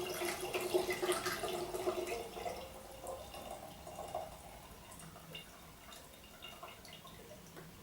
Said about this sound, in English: Pour the last little bit into the demijohn.